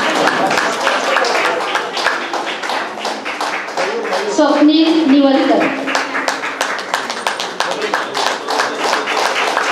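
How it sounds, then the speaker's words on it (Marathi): Audience applause at a senior citizen programme, scattered clapping running under a voice announcing names over a microphone. "जोरदार टाळ्या चालूच राहू दे"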